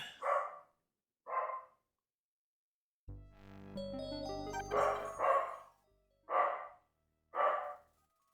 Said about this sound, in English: I have a noisy dachshund in the background